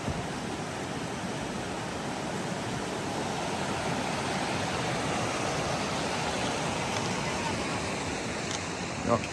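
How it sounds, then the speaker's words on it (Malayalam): Cold glacier-fed mountain stream in Canada rushes steadily under a footbridge, a loud, even roar of flowing water that holds without a break. "ഈ തോട്ടിലെ വെള്ളം ഒഴിയോ ഒച്ച കേട്ടെ"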